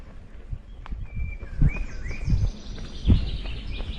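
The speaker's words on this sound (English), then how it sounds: "And the birds are still chirping away" Small birds chirp and tweet in repeated short calls at moderate distance, mixed with outdoor ambience at a trail race course in Alsace, with a few thumps and rustles in between.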